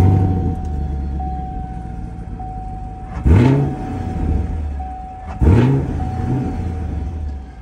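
A 2023 Chevy Camaro 2SS engine idles after a lukewarm start, then blips twice in sharp, loud revs a couple of seconds apart, settling back to a steady rumble each time.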